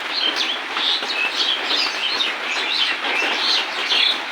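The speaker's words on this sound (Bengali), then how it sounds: "অনেক পাখি কিচুমিচু করতেছে বৃষ্টির মাঝে" Many birds chirp and tweet continuously over a steady wash of rain, a busy, layered chorus close by.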